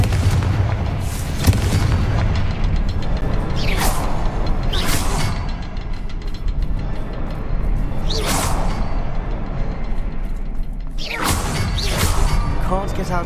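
Repeated Confringo fire spell blasts in Hogwarts Legacy: several whooshing bursts crash at irregular intervals over a dense, rumbling background of game sound.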